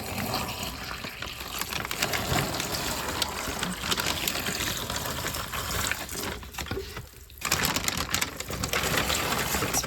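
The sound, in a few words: water poured onto a soil brick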